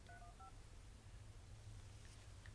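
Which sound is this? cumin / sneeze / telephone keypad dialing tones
telephone keypad dialing tones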